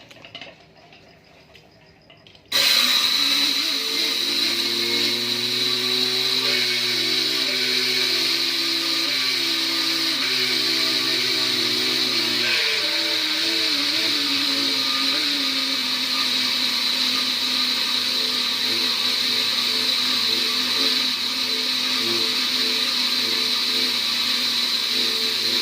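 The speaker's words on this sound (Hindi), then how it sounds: "इसके ये तमाम अज़ा हमने ग्राइंडर के अंदर डाल लें पिसाई के लिए" An electric grinder milling herbal powder ingredients starts abruptly and runs as a loud, steady high whine with a low motor drone, its pitch dropping slightly partway through as the load changes.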